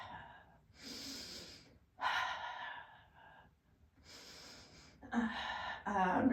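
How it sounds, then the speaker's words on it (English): Audible in-and-out breathing during a reformer Pilates exercise, long breaths alternating with short pauses, close and fairly loud, with no talking. "I'm breathing into the back of the body for the 100"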